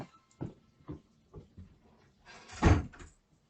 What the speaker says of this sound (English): I want to close the door.